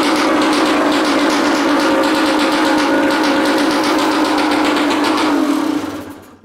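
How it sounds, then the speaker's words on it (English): A Kawasaki dirt bike with no battery idles loudly and steadily, its buzzing engine close and constant for several seconds before cutting out abruptly at the end. "So I want to start up the engine and see if two turn signals flash."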